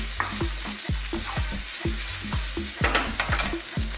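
Beef or lamb mince sizzles steadily in a hot pan while a utensil scrapes and stirs it in quick, regular strokes, close up with no voices.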